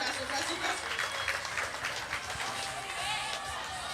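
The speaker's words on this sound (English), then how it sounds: "And clap, clap, clap, clap, clap, clap, clap, clap." A crowd claps together in rhythm amid a broad wash of cheering and noise at a pole vault competition, continuous and fairly distant.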